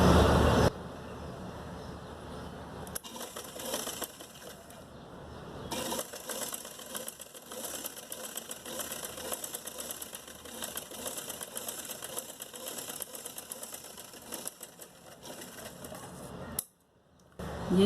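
Sewing machine stitching a bell sleeve along a shaped seam, a steady close mechanical whir running almost continuously with brief pauses and a short stop near the end.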